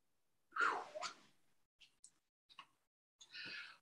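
A single close sneeze from someone at a poetry reading, breathy and sharp, followed by quiet clicks and small sounds, then a brief murmured voice at the end in an otherwise hushed room.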